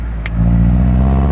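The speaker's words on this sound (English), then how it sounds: "The tone is good, but a little bit louder and no rasp would be, I think, the perfect exhaust setup for this platform" A Subaru BRZ with Tomei UEL headers and an HKS exhaust revs close to the microphone, a loud, deep, rumbling note that swells and holds, with a brief click near the start.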